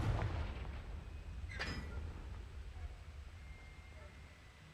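A Confringo fire spell bursts in the game Hogwarts Legacy, a single sharp blast over a low rumbling game background, with a brief speaking voice.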